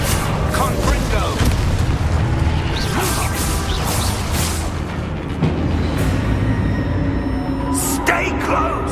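Confringo blasting spell in a Hogwarts video game: a dense, loud magical blast with booming rumble, whooshes and crashing debris over continuous game noise, with voices shouting amid the din.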